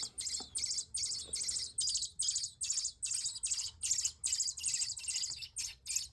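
Rescued baby birds chirp in rapid, rhythmic bursts of high, thin cheeps, close and fairly faint, repeating steadily with no talking.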